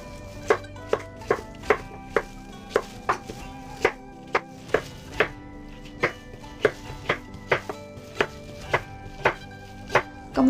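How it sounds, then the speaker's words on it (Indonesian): A knife chops through a washed yellow pumpkin on a cutting board, about twenty crisp, evenly spaced strikes, close and clear, with no talking. "Potong labu kuning yang sudah dicuci bersih."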